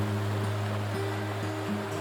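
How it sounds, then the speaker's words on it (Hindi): Fast-flowing Beas river near Manali on the Rohtang road, a steady broad rush of water heard from a distance under a constant low engine-like hum. "व्यास नदी की धार भी तेज हो गई है"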